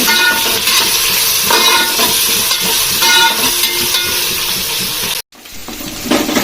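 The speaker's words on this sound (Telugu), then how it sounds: "ఆలు ఫ్రైలోకి సిమ్లో పెట్టి మంచిగా కొంచెం వేగేటట్టు వేయించుకోవాలి" Potato fry with green chillies, onion, curry leaves and ginger-garlic paste sizzles on a low flame, a loud, steady close hiss that cuts out abruptly near the end, then returns more faintly.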